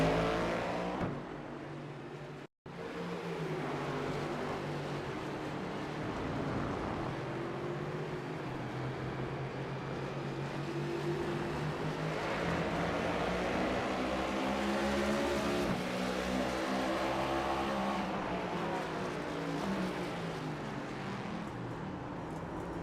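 Race cars lap the Motegi East track in the iRacing video game with a continuous, loud engine roar and shifting revs as several cars battle closely for position, briefly interrupted by a split-second dropout.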